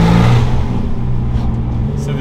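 RUF Porsche 993 Turbo engine droning loudly from inside the car as it pulls through a gear change, the note dropping briefly and then building again.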